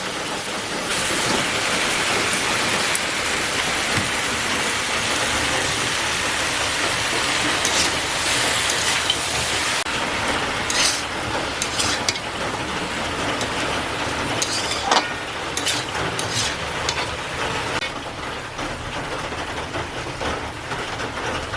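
Malabar spinach frying in a pan with ginger and garlic, giving a loud, steady sizzling hiss that runs unbroken from start to finish with no talking.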